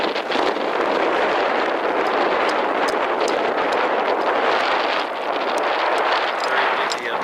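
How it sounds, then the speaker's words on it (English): Strong wind on a mountain highway in Wyoming's Bighorn Mountains roars steadily and loudly against the microphone, a dense continuous buffeting rush with slight gusting swells and no pauses. "Very windy up here."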